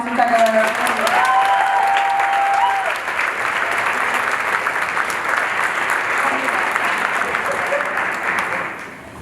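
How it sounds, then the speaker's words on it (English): A high school spring concert audience claps loudly and steadily, with a few voices and tonal notes at the start before the applause fades slightly at the end. "Another round of applause for Mr. Tecalero."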